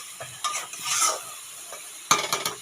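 Spices with turmeric being sautéed in a pan, heard as a few close scraping and clicking stirs over a faint background sizzle, with quiet gaps between strokes.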